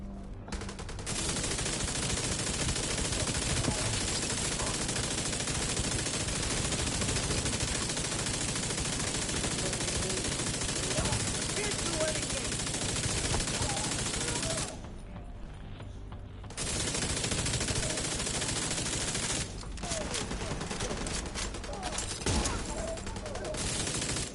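Gunfire from The Division 2, a sustained dense barrage of rattling shots that fills the scene nearly nonstop, broken by a short lull and a brief gap near the end, loud and close with no talking.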